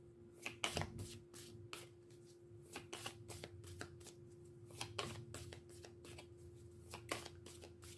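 Tarot cards being shuffled by hand, a long run of quick, crisp riffling and slapping bursts at an uneven rhythm, close and fairly quiet, with no talk.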